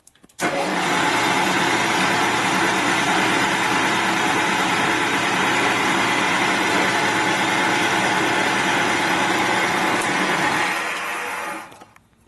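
A power drill runs steadily at full speed for about eleven seconds during a kicker ratchet plate change on a Harley-Davidson Ironhead Sportster, a loud, even whirring buzz that starts abruptly and then winds down.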